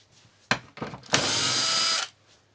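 Power screwdriver unscrewing parts from a Husqvarna 580 BTS leaf blower with a knocking engine, two short bursts then a steady whirring run of about a second, close and loud, no talking.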